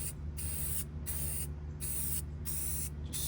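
An aerosol can of automotive primer hisses onto a Honda S2000 car part in four or five short, close bursts, with brief breaks between sprays.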